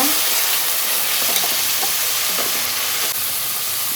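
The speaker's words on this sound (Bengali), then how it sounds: "এখন চিংড়ি মাছগুলি দিয়ে দিব একটু ভেজে নেব" Prawns frying in a pan while being cooked with Malabar spinach, a steady loud sizzle with a few soft stirring clinks and scrapes, no talking.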